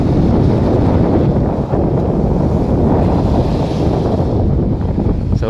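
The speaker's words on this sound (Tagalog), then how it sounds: "Lakas ng hangin." Strong wind at Kefalonia roars and buffets a microphone continuously, with a dense rushing noise that never lets up.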